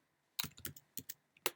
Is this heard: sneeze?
no